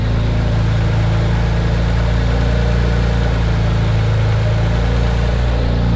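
A freshly rebuilt twin-turbo 6G72TT V6 in a Mitsubishi 3000GT VR4 idles around 1,200 RPM, a steady, loud, close low rumble with constant droning hum and no variation or voices.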